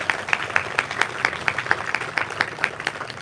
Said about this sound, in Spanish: Un aplauso fuerte para el obispo.